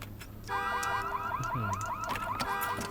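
Car alarm in the video game Watch Dogs 2, a loud repeating electronic whooping wail starting abruptly and cycling rapidly over street ambience.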